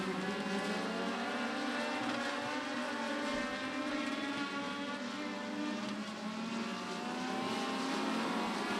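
INEX Legends race cars circling Beckley Motor Speedway during a heat race, a continuous blended engine drone from several cars at a distance, steady and unbroken, no talk.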